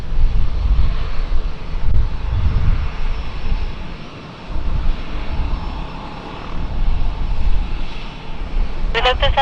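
A passenger jet takes off from runway 09 at I Gusti Ngurah Rai airport in Bali, a loud continuous engine roar heard at a distance, steady and rumbling throughout, with a brief voice at the end.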